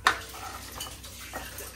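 Dishes being washed in a home kitchen: a sharp clink at the start, then soft clatters and scrubbing of pots and plates, close by with no talk.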